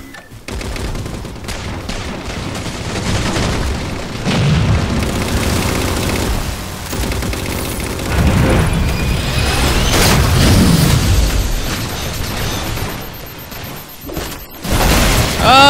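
Heavy gunfire and booming explosions from a Halo 4 Big Team Infinity Slayer match on the Ragnarok map, loud and chaotic, with rapid fusillades and several deep blasts rolling through a long, busy stretch.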